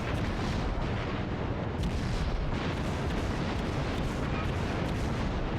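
Battleship main guns firing high-explosive shells in World of Warships, a dense continuous roar of booming salvos and explosions that fills the whole stretch with no gaps.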